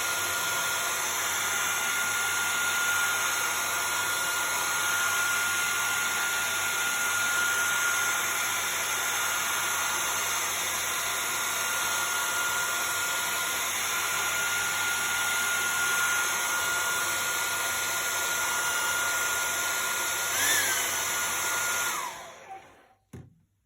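A heat gun blows hot air over a sheet of candle wax, a continuous steady whooshing whir with a faint tonal hum, running unbroken for over twenty seconds before it is switched off and winds down.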